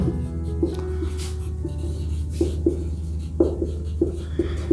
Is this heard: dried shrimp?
no